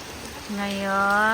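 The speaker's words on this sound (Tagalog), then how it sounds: "Oh, it's raining guys. It's raining. Ang lakas ng ulan." Heavy rain falls with a steady broadband hiss filling the short stretch, while a voice with a rising, stretched tone sounds over it.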